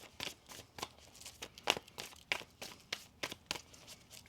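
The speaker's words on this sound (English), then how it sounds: "One more shuffle here." Tarot cards being shuffled by hand, a quiet close run of soft riffling snaps and flicks in an irregular rhythm.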